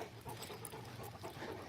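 Dogs pant in quick, breathy rhythmic puffs, close and fairly soft, continuing steadily over the brief stretch without any voices.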